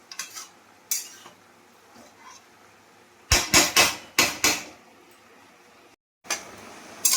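Kalmi greens are stirred in a frying pan, a metal spatula knocking and scraping against it in sharp clanks, with a quick cluster of strikes midway and a faint frying hiss beneath.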